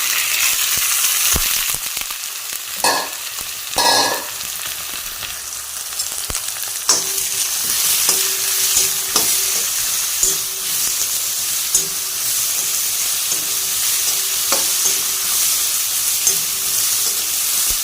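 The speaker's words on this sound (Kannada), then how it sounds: "ಇದರಲ್ಲಿ ನೆಕ್ಸ್ಟ್ ಮಶ್ರೂಮ್ ಹಾಕ್ತಾಯಿದ್ದೇನೆ" About 200 grams of mushrooms fry in a pan for palak mushroom pulao, a dense hissing sizzle with bursts of louder spattering early on and scattered utensil clicks, close and continuous, no talking.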